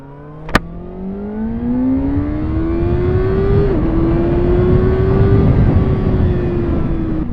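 Kawasaki Ninja ZX6R motorcycle being ridden, a loud close engine rising in pitch as it accelerates, a short gear-change dip, then a sustained high-revving whine with steady wind rush.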